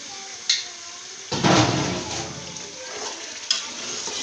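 Bone-in mutton tipped into a pan of fried onions sets off a sudden loud sizzle that settles into a steady hiss, with a few sharp clinks of a stirring spoon.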